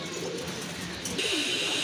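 A pair of pigeons coo softly and continuously nearby, a low throaty murmur running steadily throughout with no talking.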